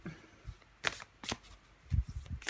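Tarot-style cards are shuffled for a reading, giving a few quick papery riffles and soft slaps in separate bursts at close range, fairly quiet, with no talk over them.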